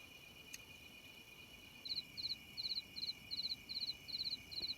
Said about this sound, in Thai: เสียงจิ้งหรีดที่มันฮ้อง